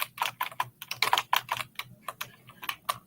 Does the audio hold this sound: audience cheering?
no